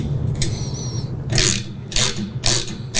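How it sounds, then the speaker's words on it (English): A ratchet clicks in quick bursts of rapid ratcheting, close and loud, as a lock nut is tightened on the pin of a John Deere 42-inch lawn sweeper. "And then next we can go ahead here and tighten up the nut on our pin."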